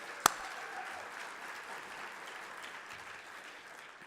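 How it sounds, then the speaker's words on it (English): An audience applauds at a legislative summit's opening session, a soft, even wash of clapping heard from some distance after one sharp clap-like snap at the start. "Yeah, you can give a round of applause."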